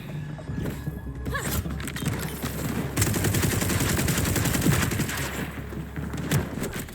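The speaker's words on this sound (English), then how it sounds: "here's what it sounds like after a quick audio mix highlighting the weapon sounds and their damage" Rapid automatic gunfire from weapons in the shooter game Borderlands 4, a dense continuous stream of sharp shots and impact sounds, loud and close, running steadily for several seconds without talk.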